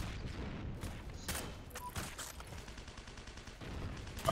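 Gunfire in a WWII tank battle game with Panzers: a quick scatter of shots and distant booms over a rumbling, noisy battlefield bed, fairly faint overall.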